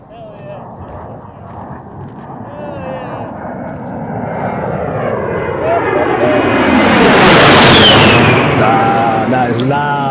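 An A-10 Warthog jet flies overhead, its roaring engine noise building and sweeping in pitch as it passes close and loud, peaking near the end before starting to fade.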